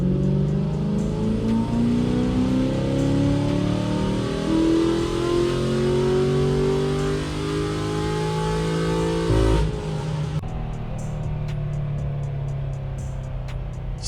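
An LS3 Corvette engine revs on a dyno during a tuning run, a loud, steadily rising roar that hits a low rev limiter and breaks into stuttering cuts, then settles to a rougher idle.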